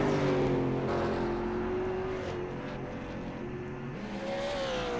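The number 14 Ford Falcon race car, carrying damage, works through tight turns at Oran Park, its engine a loud, sustained drone whose pitch sags and rises as it lifts off and accelerates.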